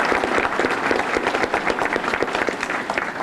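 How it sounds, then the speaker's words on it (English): Audience applause fills an awards ceremony hall, a dense, steady wash of many hands clapping at close range, sustained evenly for several seconds with no voices over it. "So if we could all give them one more round of applause."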